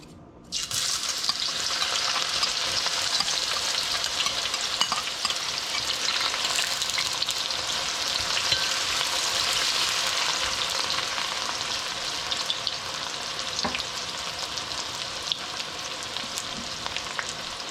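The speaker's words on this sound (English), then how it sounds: "So the onions have been added there to fry up a little bit." Onions frying in oil in a karahi give a steady, loud sizzle that starts abruptly after a brief quiet moment and holds evenly throughout, with faint stirring scrapes and no voices.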